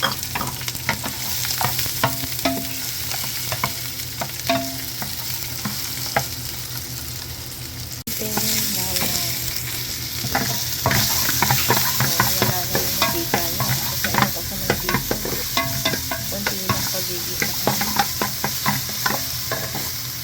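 Sardines and fresh vegetables fry in a little oil in a pan, giving a steady close sizzle. Frequent scraping and stirring clicks run through it, and there is no talk.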